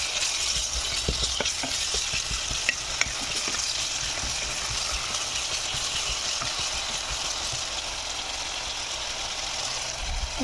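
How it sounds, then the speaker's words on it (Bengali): Four medium chopped onions fry and sizzle steadily in hot oil in a pan for dal, a dense continuous crackle with occasional stirring clicks and no voices. "এখন দিয়ে দিচ্ছি পেঁয়াজ কুচি, 4টা মাঝারি সাইজের পেঁয়াজ।"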